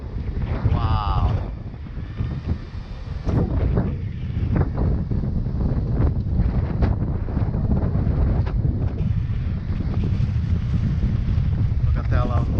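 Strong hurricane wind roars and buffets around a small DJI Ryze Tello drone outdoors, a loud continuous rushing blast with gusty swells throughout.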